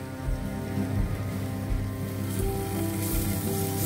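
Chopped dates sauté in a spoonful of ghee in a pan. A steady, close sizzle and hiss of frying runs throughout, with a low hum underneath.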